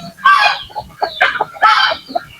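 Native chickens cluck loudly and close by in a quick run of three bursts, sharp rising calls with short throaty notes between them.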